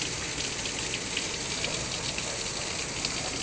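Heavy rain pours steadily during a southern thunderstorm, a dense continuous hiss of drops close by with no thunder or voices standing out.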